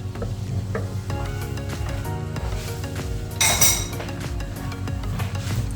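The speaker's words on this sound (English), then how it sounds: "So I'm going to add the rest of that stock now." Stock is poured into a simmering pan for a roast chicken gravy and stirred, with a steady sizzle, clinks of utensil against the pan and a brief louder splash partway through.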